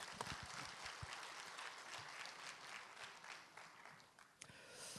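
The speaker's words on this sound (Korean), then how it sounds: "축하하는 의미로 박수를 보내주시면 고맙겠습니다" An audience applauds steadily at a founding ceremony for the Daejeon Metropolitan City residents' self-governance association, dense clapping filling the room with a brief dip near the end.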